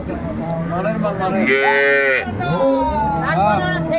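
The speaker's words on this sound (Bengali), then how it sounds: "কোয়ালিটি সম্পন্ন গাভী বাছুর আমরা দেখছিলাম" A dairy cow or calf at a cattle market gives a long, loud moo up close, followed by a shorter one. A voice talks in the background throughout.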